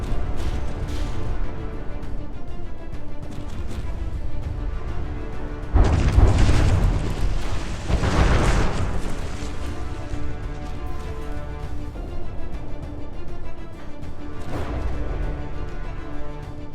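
Naval battle in a warship game as a pre-dreadnought's three remaining turrets fire, deep booming shots and explosions rising over a steady rumbling background, with bigger blasts around the middle and another near the end.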